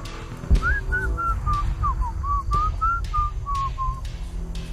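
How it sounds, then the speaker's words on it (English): A character in the video game Shadow of the Tomb Raider whistles a wavering, tuneful run of about a dozen short notes, clear and close over a low rumbling game background. "Why are you whistling during the job?"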